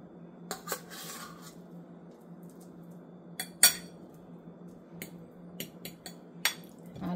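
Dishes and cutlery clinking as mashed potatoes and chicken breast with onions are plated in a home kitchen: scattered sharp metallic taps and ceramic knocks, close and fairly quiet, with longer gaps over a steady low hum.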